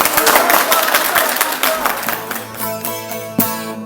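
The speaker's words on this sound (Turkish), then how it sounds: "Alkışlar size." Audience applause for a Turkish folk song performance, a dense burst of clapping that fills the first two seconds, then fades as singing and instruments start up.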